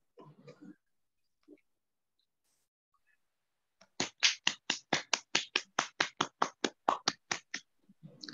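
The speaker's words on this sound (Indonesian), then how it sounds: "kita berikan aplaus untuk kelompok 6" Applause for a presentation group in a class session, a small number of people clapping in a quick, even run of about fifteen sharp claps after a few faint sounds, close and dry.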